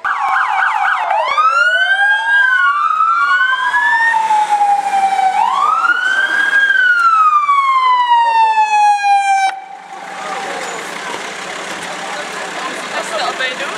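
A fire engine's loud wailing siren sweeps up and down close by as it arrives at a car rescue scene, then cuts off, leaving engine rumble and a diesel hum.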